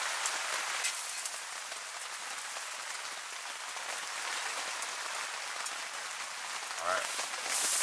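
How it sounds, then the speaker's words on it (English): Heavy rain pours steadily onto a tipi hot tent at a riverside fall steelhead fishing camp, a dense, constant patter with a few louder thuds near the end. "I think the rain is pouring harder than it has all morning"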